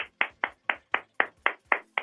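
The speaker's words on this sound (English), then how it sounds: "That is the greatest sound I've ever heard. One man clapping." A single man clapping in a bar comedy show, eight sharp, evenly spaced claps close by with silence between them.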